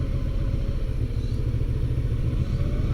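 A motorcycle riding through the crowded main street of Locke, a Chinese delta town in California, its engine a steady low rumble close to the rider, with no variation throughout.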